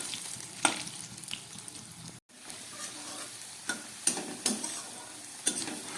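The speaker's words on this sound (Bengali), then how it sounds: "ভালো করে আলুটাকে ভেজে নিচ্ছি" Potato pieces frying in oil with a bay leaf over low heat, a steady sizzle broken by a few sharp stirring scrapes and clinks, close and alone.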